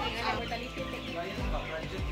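Chickens clucking inside a large poultry farm housing about 25,000 birds, a dense continuous din of overlapping clucks and calls filling the space with no clear pauses.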